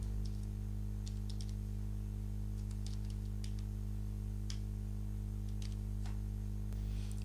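Faint keystrokes on a computer keyboard, entering an email address and password on a CRM sign-up page; scattered clicks come in short bursts over a steady low electrical hum.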